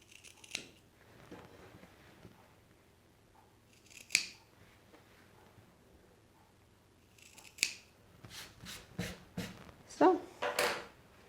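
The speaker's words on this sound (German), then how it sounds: "Wir schneiden unsere Ecken zurück." Fabric scissors trim seam-allowance corners on an Easter basket made from a single fabric square, with several crisp snips spread through the clip and a quick cluster of cuts near the end, close and fairly quiet.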